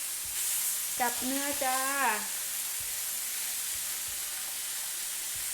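Pork sizzling and frying in a hot pan for a Thai pork cutlet salad, a steady bright hiss running throughout while someone speaks briefly over it.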